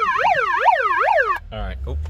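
A bullhorn siren wails, sweeping up and down in a repeating yelp, loud and close, then cuts off abruptly into a low rumble and muffled noise.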